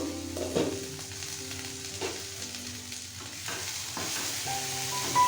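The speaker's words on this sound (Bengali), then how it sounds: "ঢাকনা সরিয়ে আবারও কিছুক্ষণ নাড়াচাড়া করে নেব।" A spatula stirs puimituli chorchori in a pan after the lid comes off, giving soft, steady frying with occasional scraping strokes, fairly quiet and without voices.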